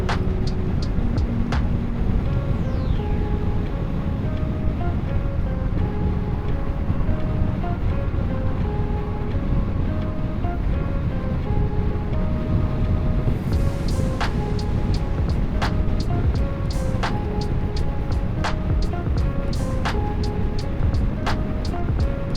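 Motorcycle with a stock silencer holding high revs around 6000-7000 RPM on a highway ride, a continuous loud engine drone mixed with heavy wind rush, occasional sharp ticks and clicks over the steady roar.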